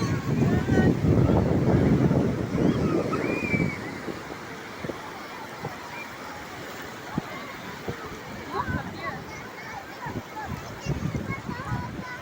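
Wind and sea waves at a beach roll in as a broad, steady wash, strongest at first then easing, with gusts buffeting the microphone and people talking nearby throughout.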